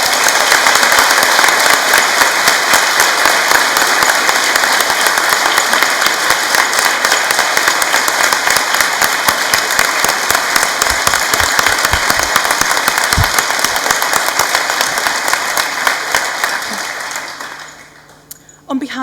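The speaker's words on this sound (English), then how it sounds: "With a round of applause, please." Loud, sustained applause from a large crowd at a college graduation ceremony, thick continuous clapping with a faint hum underneath, carrying for most of the stretch before tapering off abruptly near the end.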